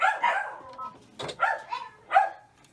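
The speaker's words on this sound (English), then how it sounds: "Don't mind the dogs." Several sharp barks from dogs indoors in a fabric studio, reacting to people outside, coming in quick repeated bursts at moderate distance with no speech over them.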